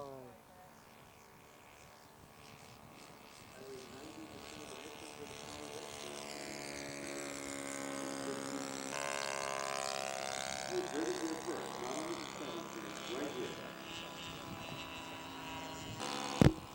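A scale model aircraft takes off and climbs away at an air show, its engine drone rising in pitch and growing steadily louder before leveling off, with a commentator talking over it and a brief sharp bang near the end.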